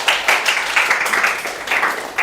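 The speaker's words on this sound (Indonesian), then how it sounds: "tepuk tangan dulu buat Mas Abi dan Dava ya" A short burst of applause from a classroom of students, several rapid overlapping claps lasting about two seconds at moderate loudness with no talking.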